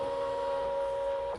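Brother ScanNCut cutting machine running on a design, a steady, close motor whine with a constant tonal hum throughout the short stretch.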